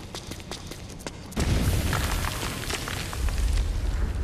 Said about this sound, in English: the explosions are close enough that